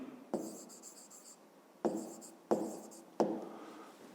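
Pen strokes on paper while solving a fifth-grade maths exercise: four separate scratchy bursts of writing, close and quiet, each starting sharply and tapering off, with no speech.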